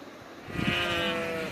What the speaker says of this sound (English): I'm a sheep.